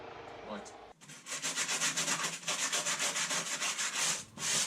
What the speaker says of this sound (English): let's make a start on sanding off this wood filler